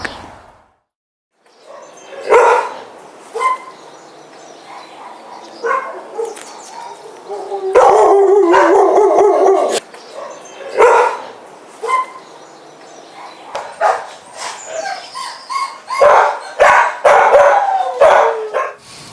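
Several dogs bark loudly and repeatedly in kennels in overlapping bursts, with some yips and short quiet gaps between the outbursts.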